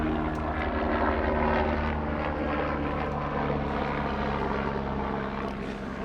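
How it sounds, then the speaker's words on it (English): An outdoor helicopter drones steadily with a loud, continuous rotor and engine roar and a faint chopping pulse, staying strong throughout as it passes overhead. "I'm gonna wait for this helicopter to pass"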